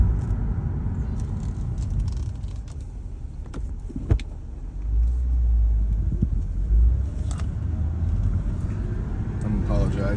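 Inside a 2007 BMW 328i wagon with a short shifter, the engine rumbles steadily while driving, rising into a deeper surge as it pulls through a gear change, with someone talking over it.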